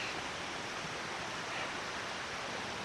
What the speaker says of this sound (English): as you might expect, it's at the creek